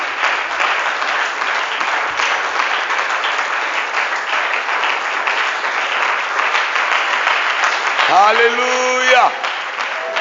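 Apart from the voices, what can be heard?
church congregation applauding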